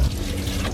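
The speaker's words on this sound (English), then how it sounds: "We're gonna drain that, rinse it off," Boiled cashews being drained and rinsed in a van kitchen, with a steady rush of running water splashing close and loud, alone without talk.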